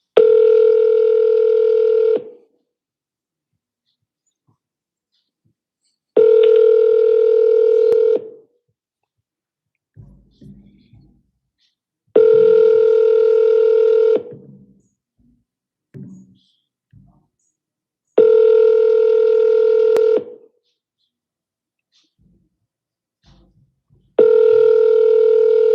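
A telephone handset rings out as repeated calls are placed, five long steady ringback tones spaced evenly with silent gaps and faint clicks between them, no voices.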